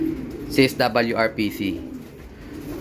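Racing pigeons coo in a loft, a few soft rounded calls running in a short burst under someone talking, with a faint constant hum in the background.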